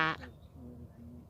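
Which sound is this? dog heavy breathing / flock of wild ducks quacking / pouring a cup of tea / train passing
flock of wild ducks quacking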